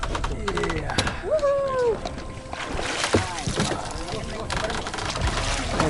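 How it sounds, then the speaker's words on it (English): A boat on the ocean in Bali with engine or hull noise and sloshing, birds calling faintly and people talking over it throughout. "You get in the boat."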